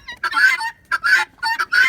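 Chickens inside a chicken coop cluck and squawk in three close, loud bursts with short pauses between them.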